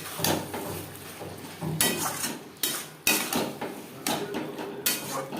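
Gobindobhog rice and potatoes being mixed into fish curry masala in a pot, heard as repeated bursts of scraping and knocking from a spoon against the metal in uneven strokes, close and fairly loud.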